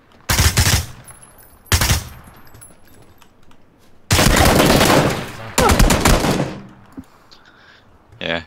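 Automatic gunfire in a video game firefight, several loud sustained bursts at close range with quieter gaps between them, ending with a few faint clicks.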